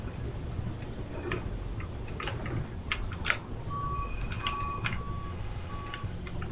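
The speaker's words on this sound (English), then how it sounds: "I literally love that backing up noise," Truck reverse-alarm beeps sound faintly in the distance, a few steady repeated tones over a low rumbling background.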